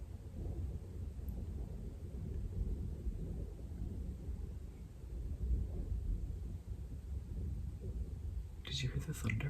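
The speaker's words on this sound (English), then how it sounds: "Did you hear the thunder?" Distant thunder during rain in Japan, a low, continuous rumble rolling under soft rain noise, with a brief rustle near the end.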